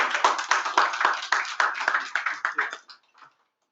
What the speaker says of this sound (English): Let's give a round of applause for Ahmed's support